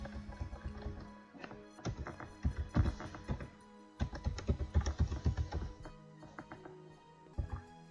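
Typing on a computer keyboard while entering login details, a dense run of close key taps in bursts with brief pauses, no talk.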